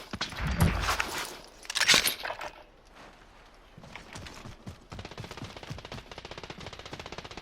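Rapid bursts of gunfire in the game Call of Duty Warzone, played on PS4, crackle close and loud, followed by quieter, steadier trains of shots.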